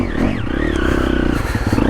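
A Triumph TF250E dirt bike roars steadily on a bush trail in Australia, its engine loud and close with continuous throaty revving and some rattle from the rough ground.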